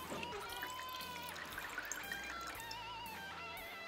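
Water pours steadily over a Specna Arms EDGE airsoft gun during a water-resistance test, a continuous close trickle and splash lasting several seconds.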